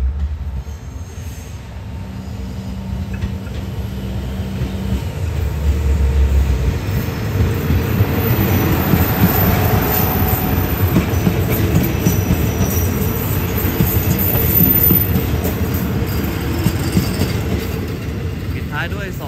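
A Thai express passenger train on the rails bound for Surat Thani, rumbling loudly and steadily close by with wheel squeal and clatter that swell in the middle and hold to the end.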